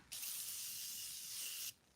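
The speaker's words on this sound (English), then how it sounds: "spray my face with Morphe first" Morphe setting spray misted onto a face in one steady, close hiss lasting about a second and a half, starting and stopping cleanly with no talking over it.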